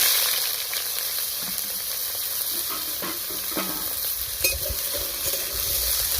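Potatoes sizzle steadily in a hot pan in a village kitchen while being stirred, with a constant bright hiss and occasional scraping and clinking of the utensil against the pan.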